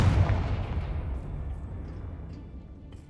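A Confringo blasting spell goes off in Hogwarts Legacy, a single loud booming explosion at the start that rumbles and fades away over about three seconds, with no voices.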